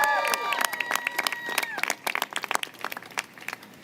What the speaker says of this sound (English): Applaud for Tish James.